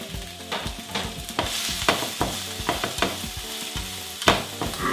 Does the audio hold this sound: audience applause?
no